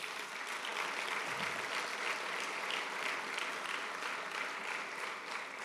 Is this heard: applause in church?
yes